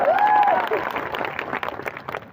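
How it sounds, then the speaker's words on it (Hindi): A crowd at a political rally backing Chaitar bhai claps to welcome the speakers, a dense wash of applause with a whistle-like tone rising at the start and a voice faintly audible underneath. "तालियां बजा के स्वागत करिए फिर सबका"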